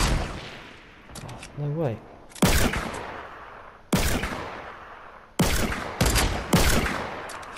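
Gunfire in a duos video game match: several sharp, loud bursts of shots in irregular clusters, close and punchy, with players talking excitedly between them.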